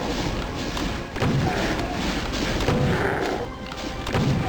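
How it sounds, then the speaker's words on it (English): Fireballs from an imp in Doom 2 hit and burst in repeated dull thuds and booms over steady game noise, several impacts arriving in quick succession. "this one imp is just pelting me with fireballs"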